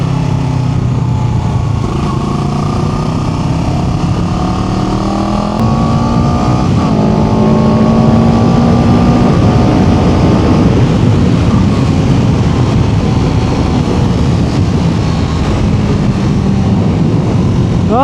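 Italjet Dragster 700 scooter-style motorcycle with a two-cylinder engine, ridden on the road: a loud, continuous engine drone climbs and drops through several gear changes, with rising pitch sweeps and steady wind rush throughout, no talk.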